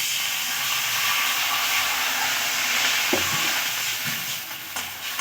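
Water poured onto frying cauliflower and potatoes in a pan sets off a loud, steady hissing sizzle with steam, followed by a few spatula knocks and scrapes as the sizzle eases slightly toward the end; no speech.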